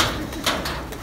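Pakistani pigeons at a Lahore loft cooing and calling, a few soft repeated notes over a steady hissy background, with faint knocks nearby and no talking.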